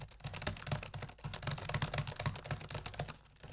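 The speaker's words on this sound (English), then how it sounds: "listen to the keyboard." Rapid, close keystrokes tapped on a convertible laptop keyboard, a steady stream of crisp clicks and soft thuds continuing throughout with no voices.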